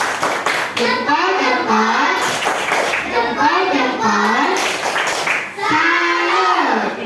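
Children clap in a patterned rhythm while chanting an Indonesian classroom clapping chant together, loud and close, with sung voices rising and falling between claps.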